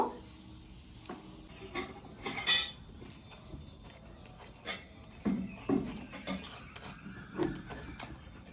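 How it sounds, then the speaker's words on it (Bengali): Hilsa fish from the Padma being rubbed with salt and turmeric in a bowl: soft, faint wet handling broken by a few light clinks and knocks against the bowl, with no talking. "মাছটাতে লবণ হলুদ কিন্তু ভালোভাবে মাখাতে হবে, যেন এপিট ওপিট দুই পিটি লবণ আর হলুদটা পায়"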